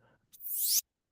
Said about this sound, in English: it's just a downlifter